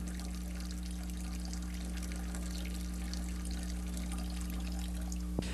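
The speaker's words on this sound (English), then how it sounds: "In slow motion, the effects of splatter and turbulence and the mixing of air in a poured liquid are" A poured liquid, filmed in slow motion, splatters and churns with turbulence and mixed-in air, giving a steady, continuous rushing wash over a low, constant mechanical hum with no pauses.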